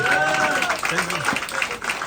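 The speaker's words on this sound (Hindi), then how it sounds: "राहुल जी और सरिता जी के लिए एक जोरदार तालियां बजा दीजिए भाई।" An audience at a celebration event claps and applauds, a dense patter of hands heard under a voice speaking over it.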